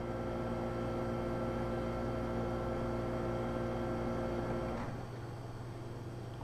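A freeze dryer set to defrost mode after drying eggs gives off a steady, loud mechanical hum with strong tonal harmonics, which drops to a quieter, softer hum near the end.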